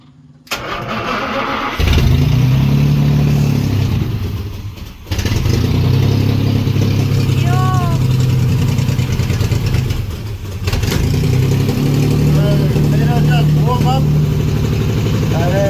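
A 1945 Jaguar Mk IV car engine cranks and fires after sitting unused with a newly installed pump, then settles into a loud, close, steady idle that briefly dips mid-run before picking back up.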